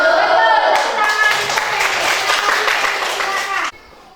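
Classroom students clap their hands together in a lively burst of applause with bright, ringing tones mixed in, fairly close and loud, then cutting off abruptly near the end.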